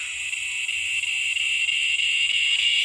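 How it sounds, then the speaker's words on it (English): A steady, shrill cicada drone rings continuously at moderate volume, with faint low rustling underneath. "Y'all hear those cicadas?"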